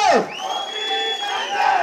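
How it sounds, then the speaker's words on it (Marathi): A crowd at a political rally cheers and whoops loudly in one sustained collective shout that rises at the start and holds steady. "एकदा सर्वांची हात वरती, जोरदार टाळी"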